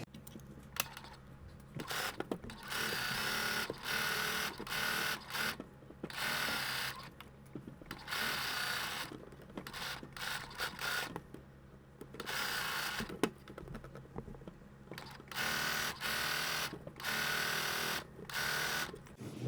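A sewing machine runs in repeated bursts while stitching a New Look 6263 summer dress, going back over earlier stitches around a circular seam; steady close whirring starts and stops every second or two, with no talk.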